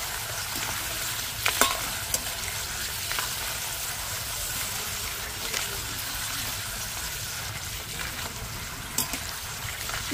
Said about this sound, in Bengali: এই যে ফেনা কমতে শুরু করেছে, তার মানে বুঝতে হবে কিন্তু আলুগুলো ভাজা হয়ে এসছে।